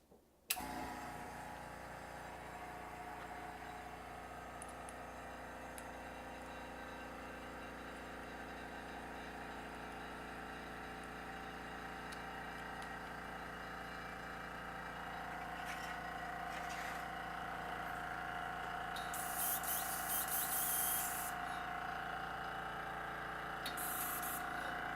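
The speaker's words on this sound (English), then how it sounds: "Airbrush on." An airbrush sprays paint with a faint, steady hiss over the low hum of a running compressor. The sound is quiet and continuous, with a few brief louder bursts of spray near the end.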